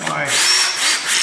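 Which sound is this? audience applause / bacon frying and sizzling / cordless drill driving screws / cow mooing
cordless drill driving screws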